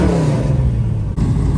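A 1970 Dodge Challenger with a 440 V8 idles too high, a steady close rumble with a constant whirring tone that holds evenly throughout, with no voices.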